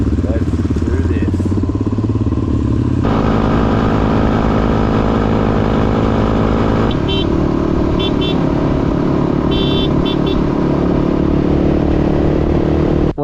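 A motorcycle pulls away from the Birdsville bakery in the outback at the start of an unsupported Simpson Desert crossing. The engine drones loud and close throughout, its pitch shifting as the bike changes gear and picks up speed.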